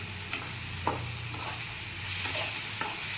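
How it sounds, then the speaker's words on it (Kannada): Dry coconut frying in a pan gives a steady, close sizzle, with occasional soft scraping strokes as it is stirred. "ಒಣ ಕೊಬ್ಬರಿ ಜಾಸ್ತಿ ಫ್ರೈ ಮಾಡ್ಕೊಳ್ಳೋದು ಬೇಡ"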